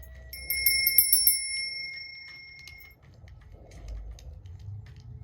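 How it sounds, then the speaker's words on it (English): A small hand bell rings in a quick burst of bright, ringing strikes during a quiet card reading, then fades out, leaving soft background rustle; the ringing is close and clear. "Feeling the need to ring the bell again, you guys."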